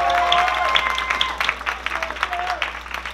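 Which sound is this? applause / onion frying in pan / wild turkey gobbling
applause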